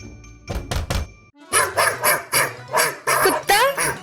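A dog barks repeatedly inside a cardboard cave play setting, loud and close, with a few quick yaps and then a steady run of sharper barks at an even rhythm.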